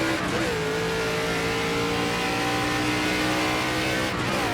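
A NASCAR ARCA race car in the iRacing simulator at Watkins Glen screams loudly and continuously at high revs, the pitch dipping with gear shifts near the start and end.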